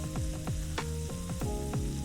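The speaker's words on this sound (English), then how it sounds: "We hear a little bit of a sizzle." Salmon fillet sizzling in a stainless steel pan with butter and olive oil, a steady close frying hiss broken by regular light clicks and taps.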